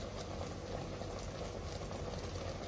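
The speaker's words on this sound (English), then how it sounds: "Boiling more and more." Sweet potatoes boiling in a pot give a steady, close bubbling roar that holds even and unbroken throughout, with no talk over it.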